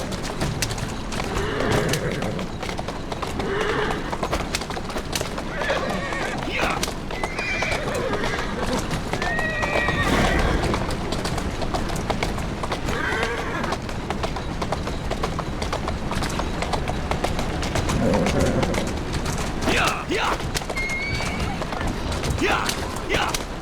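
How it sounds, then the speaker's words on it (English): A horse whinnies and its hooves clip-clop in Assassin's Creed Syndicate, with a runaway horse and carriage rattling through Victorian London streets while voices call out over the steady bustle. "A runaway horse and car!"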